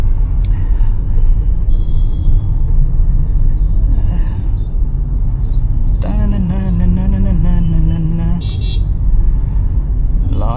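City road traffic in the morning with lorries passing, heard from inside a car: a loud, constant engine and road rumble, with a long, wavering horn honk midway.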